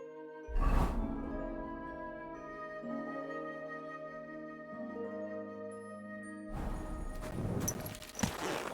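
Horse hooves clip-clop steadily at a walking pace in Kingdom Come: Deliverance II, close and clear over a soft musical drone, with a louder burst of movement near the end.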